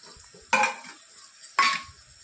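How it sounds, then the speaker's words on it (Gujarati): Two sharp scraping stirs of chopped corn into frying onion and tomato in a pan, each followed by a brief sizzle, close and clear against near silence. "હવે આપણે મકાઈ જે કાપી હતી એ મકાઈ આપણે સડવા માટે નાખી દઈએ છીએ"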